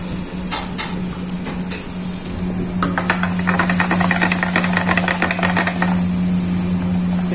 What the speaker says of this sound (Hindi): अभी रेड सॉस डालते हुए यहाँ पर